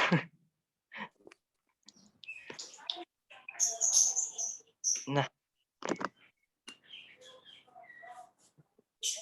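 Birds chirp in short, scattered bursts of high tweets, fairly close, alongside intermittent clicks while a voice speaks briefly.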